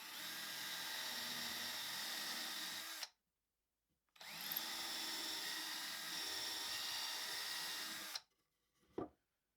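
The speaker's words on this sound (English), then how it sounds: "I'm going to use an 1/8 inch drill bit, and we're going to go straight through to the back" A power drill fitted with a 1/8 inch bit bores straight through a wooden board for a floating shelf, whining steadily in two close, loud bursts separated by a short pause, with a brief clatter at the end.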